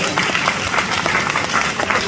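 Continuous applause from a film premiere Q&A audience fills the room, a dense, loud burst of many hands clapping with some crowd murmur underneath.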